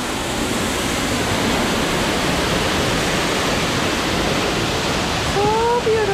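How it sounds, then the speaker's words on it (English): Loud, continuous roar of a big waterfall at Epcot, dense and unbroken from start to end, with a faint brief tone near the end. "This waterfall is so big."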